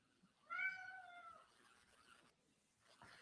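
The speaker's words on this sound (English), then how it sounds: "Is that Cat, Max?" A pet cat meows to be let outside: one loud, close, drawn-out meow rising and falling over about a second, followed by quieter rustling and a brief soft sound near the end.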